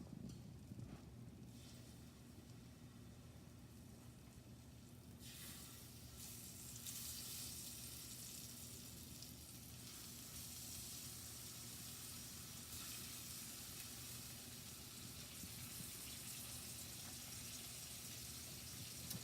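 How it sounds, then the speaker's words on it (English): Scallops grilling in a butter-coated pan, a steady, even sizzle running throughout, close and moderately loud with no talking. "Put some butter in the pan, just kind of coat the pan a little bit. And then start grilling the scallops."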